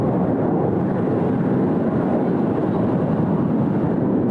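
Qantas jet taking off at Sydney Airport, a steady broad engine roar that stays loud and constant throughout with no voices.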